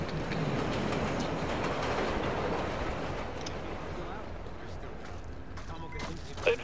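Train rolling along in the video game Splinter Cell Blacklist, a steady broadband rumble with faint clickety-clack of wheels running continuously, with a brief louder knock near the end.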